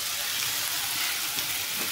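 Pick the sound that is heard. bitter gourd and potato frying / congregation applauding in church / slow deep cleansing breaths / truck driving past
bitter gourd and potato frying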